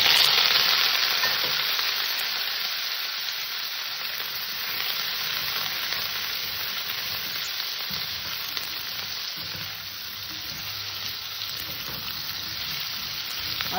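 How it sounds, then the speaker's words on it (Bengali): Potatoes fry in hot oil in a pan, giving a continuous, loud sizzling hiss that holds steady the whole time, with soft scraping from occasional stirring underneath. "নেড়ে চেড়ে আলুটাকে একটু হালকা ভেজে নিয়েছি।"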